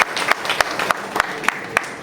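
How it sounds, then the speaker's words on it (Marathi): Steady, evenly spaced claps ring out as people applaud teachers at a Teachers' Day programme held by Lions Club Pune at ITI Aundh, Pune, with sharp individual hand strikes over a light room murmur and no talk. "पुन्हा एकदा स्वतःच आपण टाळ्या स्वागत करूया कौतुक करूया"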